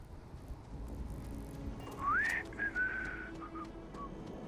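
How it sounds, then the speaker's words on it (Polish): Faint in-game whistling from a character in Starfield: a short rising whistled note followed by a couple of brief held tones, soft against a quiet background hum. "Pogwizdywanie."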